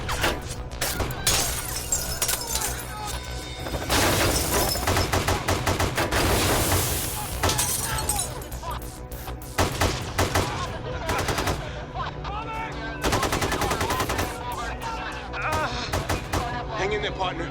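Rapid automatic gunfire and scattered shots crackle loudly through a live street scene during the North Hollywood bank robbery on Laurel Canyon, coming in dense bursts and lulls across the whole stretch.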